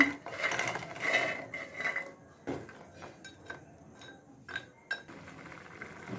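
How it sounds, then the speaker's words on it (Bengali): Gram flour gatte dumplings added to a Rajasthani gravy heating on a high flame, heard as a run of close metallic clinks and scrapes of a spoon against the pan, loud at first and then sparser. "এবার আমি এর মধ্যে গাঠেগুলো সব দিয়ে দেব"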